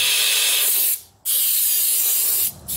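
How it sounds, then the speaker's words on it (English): Compressed air blasts loudly into the combustion chamber of an old Snapper riding mower, two long close hissing bursts broken by short pauses. "then we're going to blow out the combustion chamber with compressed air"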